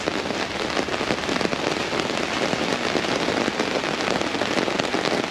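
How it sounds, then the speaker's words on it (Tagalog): Heavy rain pours steadily onto surfaces outdoors on a farm, a dense continuous hiss that stays loud and close throughout with no voices. "Maulan. Ayan, palakas pa ng palakas."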